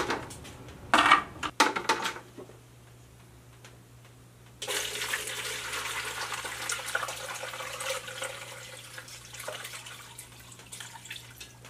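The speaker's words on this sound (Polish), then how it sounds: "Chmiel mój się ostudził, a więc teraz go przecedzę." Cooled hops strained for mead: a few clinks of a container, then a sustained pour of liquid through a strainer, steady and close, with no talk.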